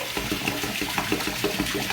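Water runs from a tap into a kitchen sink in a loud, continuous splashing rush that stays steady and close throughout, with no voices over it.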